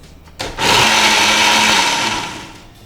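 Mixer grinder whirring as it grinds a masala paste with pepper and a little water, a loud motor whine that starts abruptly, holds steady for over a second, then tapers off.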